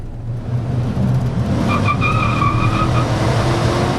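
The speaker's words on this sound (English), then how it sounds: "We just got a little tire chirp with about half throttle there." A 2001 Chevrolet K1500 Z71 pickup's 5.3-litre engine rumbles under about half throttle while its tires let out a short, high squealing chirp midway through, fairly close.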